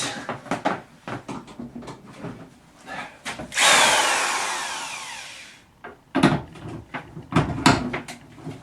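Power drill whirring in a shed game room, one sustained burst of about two seconds that fades away, set between knocks, bumps and wooden cupboard or door clatter.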